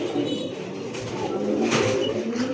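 A male pigeon coos close by in a low, steady, continuous rumble, with faint voices in the background.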